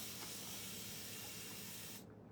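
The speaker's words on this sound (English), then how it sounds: "I'm just going to spray a little bit of water." Short steady hiss of water misted from a spray bottle onto a silk screen, close and continuous, stopping abruptly near the end.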